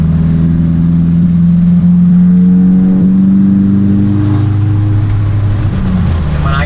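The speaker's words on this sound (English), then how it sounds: "Now you know it's bad when a Corolla's passing your ass." A car engine drones loudly and steadily from inside a vehicle, its pitch rising gradually and then easing as a Toyota Corolla passes by, with some talk underneath.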